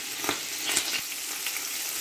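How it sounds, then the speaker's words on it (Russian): Boiled chicken leg quarters fry in a pan with a steady, close sizzle and crackle and a few sharper pops, with no talking over it. "Жарим все это недолго"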